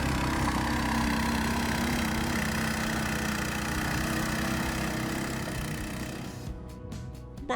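Engine of a Tofalar Tundra motorsled, a snow vehicle, running loud and steady as it climbs a hill after a rollover, then easing off and turning choppy near the end.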